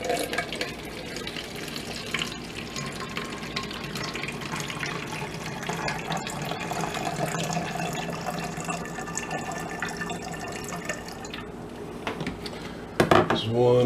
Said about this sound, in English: I'm going to use 2 cups of water.